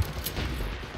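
A single gunshot in the online shooter Dirty Bomb, a sharp crack at the start followed by a short rumbling tail under game ambience.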